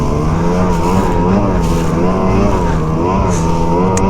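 A snowmobile engine fitted with a new drive belt, revving hard and steady up close, with a loud, continuous, slightly wavering drone and no speech.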